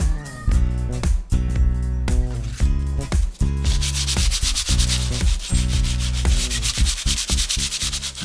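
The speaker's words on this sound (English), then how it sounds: "What I'm going to do is to sand the top down lightly" Sandpaper rubs steadily across a wooden table top in continuous back-and-forth strokes, close and fairly loud, with music playing throughout.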